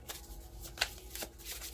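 Tarot cards being shuffled by hand, a soft, close riffling and sliding with a few sharper snaps, quiet and alone.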